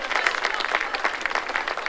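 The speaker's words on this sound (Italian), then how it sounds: "fai un applauso a Don Carlo" A crowd at a town square festival applauds in a brief, dense patter of many hands clapping, moderately close, with some voices mixed in.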